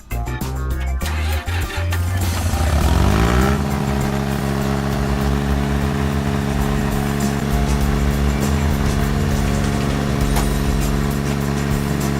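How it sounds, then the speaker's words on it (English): Tractor engine running steadily while driving on a homestead, a loud continuous droning hum with harmonic tones that settle into an even pitch after a rougher start. "I've just been driving around on the tractor"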